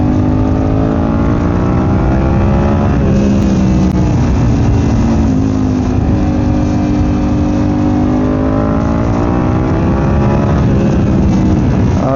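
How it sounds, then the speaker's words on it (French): A Suzuki SV650 S V-twin motorcycle engine runs steadily, its loud, throbbing twin-cylinder note rising and falling in gentle revs throughout, close and without talk. "J'adore son moteur, le bicylindre. Il fait un son bien spécifique que tous les SVTistes connaissent et adorent."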